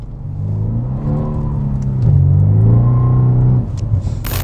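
A Mercedes C63 Estate with a 476 HP V8 revs hard, its deep, loud exhaust rumble rising and holding before dropping off, with no voices over it.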